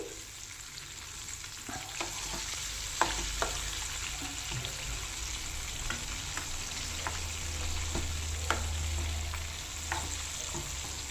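Chicken pieces for KFC-style fried chicken sizzle steadily in hot oil, a continuous crackling fry broken by sharp pops and small spatters, heard close with no voices.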